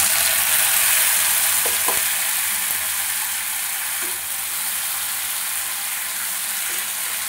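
Tomato paste and bay leaves frying over low heat in a pan give a steady, dense sizzle that carries evenly throughout, with a couple of faint utensil clicks near the start.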